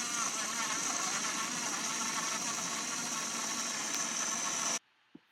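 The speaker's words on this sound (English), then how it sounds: "And then you can hear it is very quiet for a blender." A BlendJet 2 portable blender runs steadily with a fairly quiet, even whir that stops abruptly near the end, leaving near silence apart from a small click.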